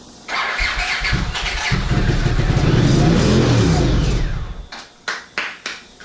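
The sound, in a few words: 1982 Honda CX500 Turbo motorcycle engine starting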